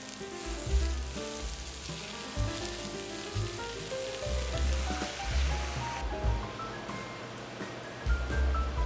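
Chow mein sauce poured over cabbage and vegetables cooking in a hot pan, producing a continuous sizzle under background music.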